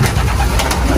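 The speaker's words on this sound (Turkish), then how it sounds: "Biz hemen hızlıca güvercinlerimizi dolduralım." Pigeons coo close by as they are loaded into boxes at a coop, soft repeated calls blended into a loud, steady rumbling background.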